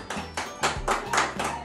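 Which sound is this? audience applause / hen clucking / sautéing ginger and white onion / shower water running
audience applause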